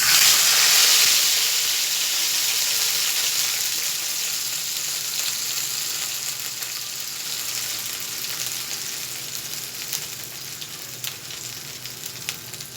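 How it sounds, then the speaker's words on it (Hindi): Tempering spices for boondi kadhi sizzle hard in hot oil in a bowl, a loud, close, continuous hiss that is strongest at first and settles into a steady crackle with scattered pops. "मैंने बाउल में तड़का लगा रहा हूँ"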